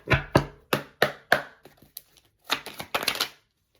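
Oracle cards are shuffled in quick bursts of crisp, slapping riffles, first as a run of five sharp strokes and then as a rapid cluster after a short pause, close and clear with no talk.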